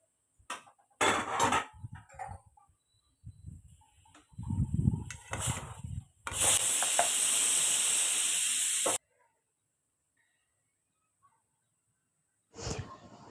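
Water poured into a hot pan of rice sets off a loud, sustained hiss of steam lasting a few seconds, then cuts off abruptly into silence, with scattered clatter and stirring sounds before it.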